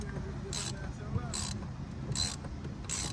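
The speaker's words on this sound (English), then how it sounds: "Taking this bolt off so we can taking out the interior" A hand ratchet works a bolt loose inside a Dodge Charger being gutted for weight reduction, with short bursts of rapid clicking recurring about once a second, close by, over a low background hum.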